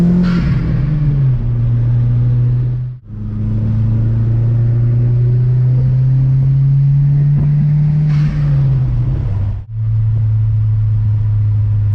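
Stage 3++ 450HP Audi A4 with a turbocharged engine revving hard, a loud close drone that rises and holds in long pulls, dropping briefly twice between revs as the turbo builds.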